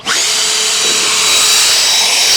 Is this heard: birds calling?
no